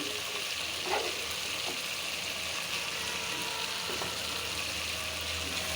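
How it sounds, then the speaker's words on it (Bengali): Rohu fish pieces sautéing in a pan for moong dal muri ghonto, a steady soft sizzle with faint stirring scrapes, continuous and close, no talking. "মাছটা একটু কষিয়ে নিলাম"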